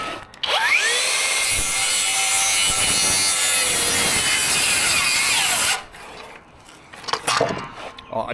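A FLEX 24V cordless power saw cuts through 45mm LVL timber, a loud steady whine with rasping as the blade bites for about five seconds, then winds down and stops, followed by brief handling noises.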